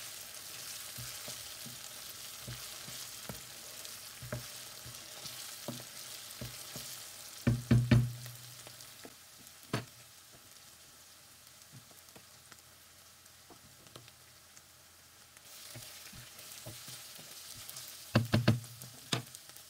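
Chopped onions frying in a hot pan for a fish curry, a steady close sizzle with scraping stir strokes around eight and eighteen seconds.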